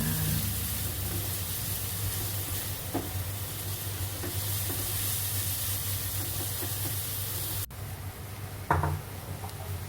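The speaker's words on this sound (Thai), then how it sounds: "ค่อยๆผัดจนหอมหัวใหญ่นุ่มๆค่ะ" Onions stir-fried gently in butter in a pan give a continuous close sizzle and hiss, with a few soft stirring scrapes and a brief clatter near the end.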